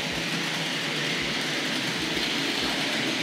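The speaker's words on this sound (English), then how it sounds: "Let's get this this freight locomotive underway" Hornby Dublo model freight locomotive running on track, a steady whirring motor hum with regular rhythmic clicks as it passes rail joints, quiet and close, no talking.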